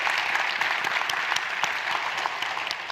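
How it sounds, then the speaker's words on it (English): Audience applause for Danielle Bedsole, director of transportation, at an education celebration event: dense, steady clapping from a sizeable crowd filling the hall. "we can give Danielle a round of applause"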